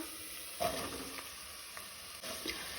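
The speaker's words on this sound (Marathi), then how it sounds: "लसूण तळसून जाली तशी तातूंत आमी कांदो घालुया।" Chopped onions drop into garlic frying in hot oil in a Goan home kitchen, setting off a steady low sizzle with a few soft stirring scrapes.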